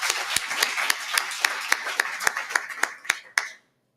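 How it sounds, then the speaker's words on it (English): Rhythmic hand clapping at a World AIDS Day 2020 event, a dozen or so sharp, evenly spaced claps close by that quicken slightly and stop abruptly, with a murmur of voices underneath. "That's not a warm enough hand clap for Jerome."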